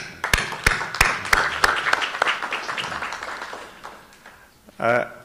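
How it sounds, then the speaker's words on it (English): Applause at an AVI Afrique 2017 gathering: a round of sharp, separate claps that thin out and fade over a few seconds, followed by a brief burst of speech. "Can I give you a round of applause?"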